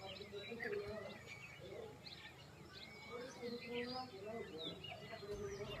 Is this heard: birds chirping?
yes